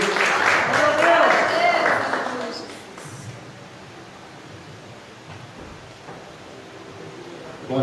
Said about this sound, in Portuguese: Você pode aplaudir o Senhor aí, glória a Deus.